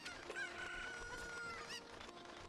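Cuccos cluck and squawk in Zelda Ocarina of Time Master Quest, a busy dense chorus of game-audio chicken calls heard faintly and steadily with no talking over it.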